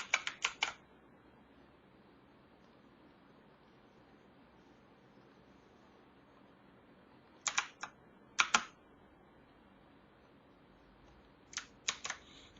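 Computer keyboard typing in short bursts of quick keystrokes separated by long quiet gaps, close and moderately loud over faint background hiss.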